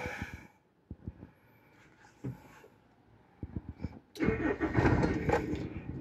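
A 2003 Toyota Kijang LGX 1.8 automatic engine cranks with a few sputtering clicks, then fires up into a steady, fairly loud running roar.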